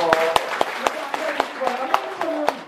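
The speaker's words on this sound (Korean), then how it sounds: "박수" Steady, evenly spaced hand claps from an audience at a Wednesday Buddhist lecture in Jeonggaksa temple, sharp and fairly close, with voices speaking over them throughout.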